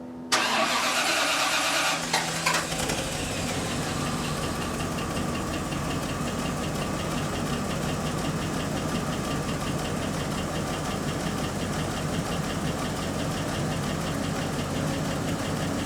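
A 1993 Bentley Continental R after a fuel line and pump replacement cranks briefly, catches and settles into a steady, loud idle that runs on without a break, no talk over it.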